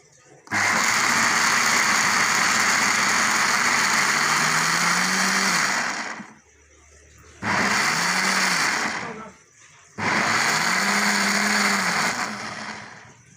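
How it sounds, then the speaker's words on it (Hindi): An electric grinder churns lentils (dal) for halwa in three loud bursts of steady whirring, each lasting a few seconds and separated by short quiet gaps, heard up close. "ये देखें जी, ग्राइंडर मशीन में अब ये चलने लगा।"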